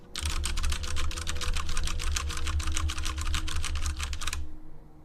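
Rapid, even typing on a computer keyboard, a dense run of close, crisp key clicks lasting several seconds before stopping abruptly, over a low steady hum.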